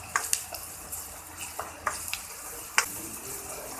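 A ginger, garlic and chili paste fries in a pan with gram flour for stuffed bitter gourd, giving a low steady sizzle broken by sharp, scattered clicks of a spoon against the pan.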